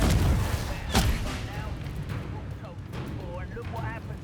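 A Confringo blasting spell cast in Hogwarts Legacy gives a sharp explosive burst near the start. Crackling magical combat noise follows, with warbling spell tones late in the clip under a loud game mix.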